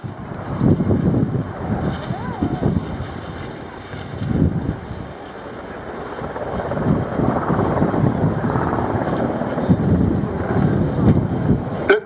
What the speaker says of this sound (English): uses the Apache's powerful tail rotor to turn the aircraft 180 degrees about the centre of the main rotor blades